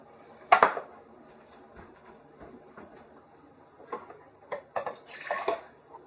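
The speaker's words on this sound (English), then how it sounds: "I'm going to fill them up with water" Water poured by hand into the reservoirs of a Keurig K coffee machine and a Nespresso Pixie, heard as brief splashing bursts with gurgling, loudest near the start and again toward the end, with quieter handling noises between.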